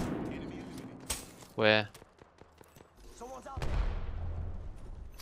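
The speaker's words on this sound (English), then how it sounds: "so we're getting shot from behind" Gunfire in the video game Apex Legends, with a few sharp shots and booming bursts amid game noise, while players talk briefly over the action.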